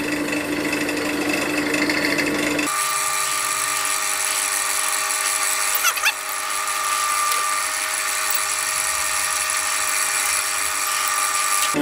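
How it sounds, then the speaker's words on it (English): A drill bit held in a wood lathe's tailstock is fed slowly into a spinning pen blank for a Celtic knot pen, giving a steady high whirring grind that starts abruptly and runs on continuously and close. "And start the lathe up. Nice slow speed. Just gently bring the drill up."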